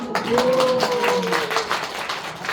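Audience applause at a gathering, loose clapping from a moderate crowd while a voice carries over it.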